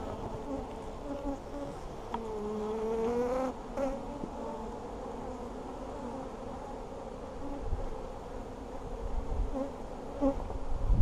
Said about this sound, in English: There are a lot of bees in and around it.